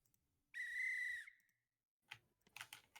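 A single sharp whistle blast lasting about half a second signals the start of a task, followed after a pause by a few quiet clicks and taps.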